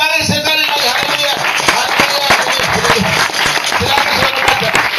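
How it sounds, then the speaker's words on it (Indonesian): A church congregation applauds, with dense, sustained clapping from many hands filling the room throughout and a few louder individual claps standing out near the listener. "Tepuk tangan lagi sekali lagi."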